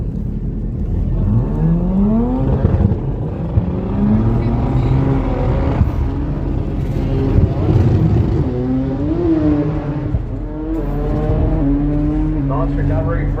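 Chevrolet Camaro with a 7-speed Liberty gearbox making a drag racing run, loud close engine revving through rising gear-by-gear sweeps, with commentary over it.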